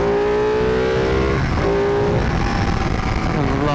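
A 2018 Ducati 959 Panigale on Pirelli Rosso Corsa tires roars steadily while being ridden on the road, its engine note loud and close, with pitch shifts as it changes gear, plus heavy wind rumble.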